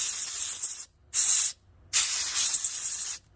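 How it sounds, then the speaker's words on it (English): Three bursts of aerosol carburetor cleaner spray hiss on a two-stroke engine carburetor, short then longer, close and loud, with brief silences between them. "I spray it out again"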